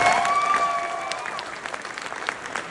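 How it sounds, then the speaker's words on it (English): An awards-ceremony audience claps steadily, with dense applause fading slightly as it goes and a brief high whistle-like tone near the start. "give them a round of applause"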